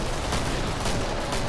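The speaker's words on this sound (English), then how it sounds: "Oh, it's a shotgun now, okay." In the video game Killing Floor, a Winchester fires in dense, continuous gunfire with sharp overlapping reports, loud and close, with no pauses.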